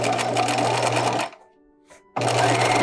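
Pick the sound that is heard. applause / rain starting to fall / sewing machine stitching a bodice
sewing machine stitching a bodice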